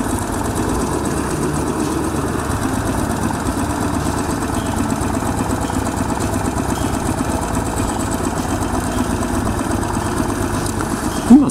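A motorcycle engine's steady, close rumble idles evenly without pause, loud and continuous, with a brief bump near the end.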